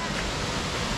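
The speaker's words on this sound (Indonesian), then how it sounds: "Nah, ini air terjunnya." A waterfall at Sengkuang, Indonesia, gives a steady, dense roar of falling water that carries through the whole second without a break.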